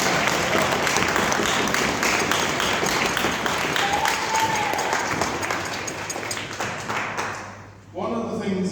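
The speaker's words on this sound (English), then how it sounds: "So you can clap." Wedding guests applaud at a summer wedding reception during the speeches, a dense, sustained round of clapping from a crowd that fades toward the end before voices take over.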